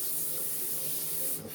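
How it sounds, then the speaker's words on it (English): Cooking spray hisses onto parchment paper in one steady, close spray of about a second and a half, with no talking. "I'm going to spray that parchment paper because I don't want this to stick."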